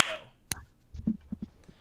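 A single sharp hand clap for syncing a podcast recording in a studio, one crisp snap-like hit followed by brief quiet and faint low murmuring sounds.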